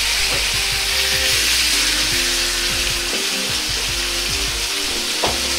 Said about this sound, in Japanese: ここで肉をしっかり焼きます。 ごちゃごちゃ混ぜずに両面を焼くようにします。